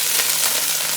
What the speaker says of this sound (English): you can hear that sizzling, a lot of water